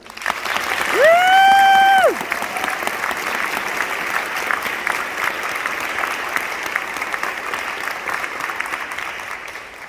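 Graduation audience applauding to welcome a student speaker, steady dense clapping across the clip, with brief loud tones near the start.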